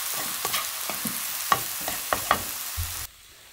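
Shiitake mushrooms stir-frying in sesame oil, with soft stirring scrapes and a light, steady sizzle. Several sharper clicks of the utensil against the pan punctuate it, then it stops abruptly near the end.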